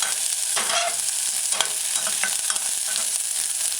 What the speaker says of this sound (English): add diced scallion. Stir it a couple times and allow it to saute